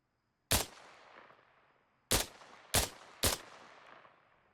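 Four loud, close gunshots from an FN SCAR rifle in the video game Arma Reforger, one isolated crack followed after a pause by three quick shots, each with a decaying echo tail.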